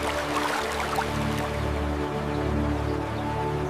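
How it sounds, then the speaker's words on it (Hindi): Glacier-fed river water flowing through Chitkul, a steady, unbroken rush of fairly close water that holds an even level throughout, with no voices. "कई लोग यहाँ घंटों बैठकर सिर्फ पानी की आवाज सुनना पसंद करते हैं।"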